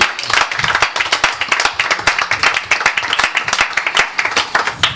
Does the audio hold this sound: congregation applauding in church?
yes